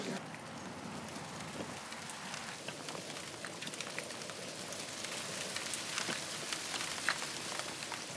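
Steady rain falling on surfaces, a dense even hiss with scattered close drops and patters, continuous throughout at moderate level.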